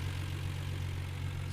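A 1975 Triumph TR6 roadster with a four-speed and dual Stromberg carburetors idles, giving a quiet, steady low drone with an even hum and no speech.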